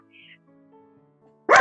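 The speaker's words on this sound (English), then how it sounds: "that's my dog, my poodle" A poodle gives a single loud bark at the very end, close by, after a quiet stretch with faint background tones.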